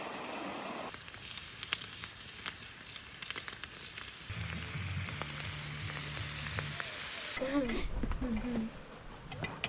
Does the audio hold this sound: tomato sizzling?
yes